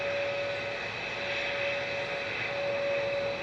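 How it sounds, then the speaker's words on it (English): Lufthansa City Airbus A320neo lining up for departure at an airport, heard as a soft, steady, distant engine whine with a constant tonal hum over low rumble. "Lufthansa City to Munich is lining up now from Victor Bravo."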